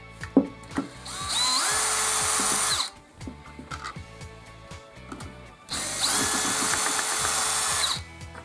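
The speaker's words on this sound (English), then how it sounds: "I'll use the drill just to speed things up." A power drill removing screws from a DeWALT DW357 circular saw whirs in two sustained bursts, close and loud, with clicks and handling noises between the runs.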